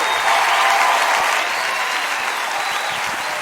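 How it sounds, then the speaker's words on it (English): Audience clapping at a spring fashion parade as models walk out, a dense, steady burst of applause that stays loud throughout with faint whistles over it. "big clap for the fellas."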